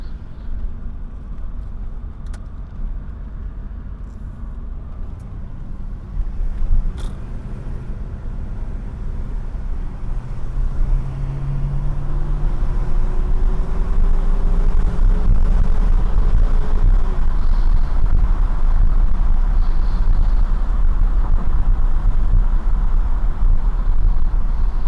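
A Mercedes W126 driving in the evening, its engine a steady low rumble inside the cabin that swells into a louder road-and-engine drone as speed builds, with no talking.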